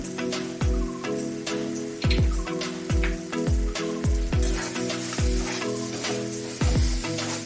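Masala paste for kadai paneer sizzles steadily in a pan with water added, while a spoon stirs and scrapes in a regular rhythm of repeated knocks, close and continuous throughout.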